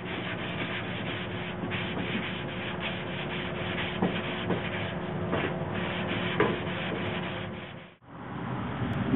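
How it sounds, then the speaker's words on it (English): Hand block-sanding a guide coat over epoxy primer on a car body panel makes a steady, close, rhythmic abrasive scrubbing with small scuffs, pausing briefly near the end before resuming, with no talk. "Now that I'm done sanding on the epoxy, let's evaluate what I found."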